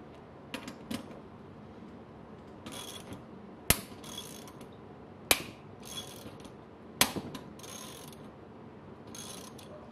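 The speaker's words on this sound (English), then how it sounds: "You're gonna hear three pops. That's the three little teeth on this guy popping through." Three sharp pops, evenly spaced, as the three small teeth of a Brewtools steam hat fitting give way under a wrench. They stand out clearly over a low mechanical background of ratcheting clicks and handling noise, with no talking.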